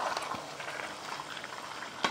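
Meat cooking in a pot as half-peeled potatoes go in, giving a steady bubbling, crackling sizzle at moderate level throughout, with a sharp clatter near the end.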